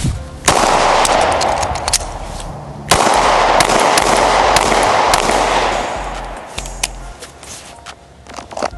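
Gunshots ring out at a shooting range: a rapid string of sharp, loud reports, with two heavy blasts at roughly three-second spacing, a few scattered cracks after them and lingering echo between them.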